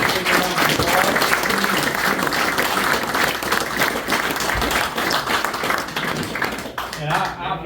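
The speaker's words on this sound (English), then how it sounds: "Give all these folks a big round of applause." Sustained, dense applause from a banquet audience at the Arkansas Motorsports Hall of Fame ceremony, steady and loud throughout with some voices mixed in before fading slightly at the end.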